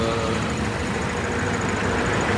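A car engine runs with the clutch slipping, a loud, close, steady rumbling drone with a rough vibrating texture and no pauses.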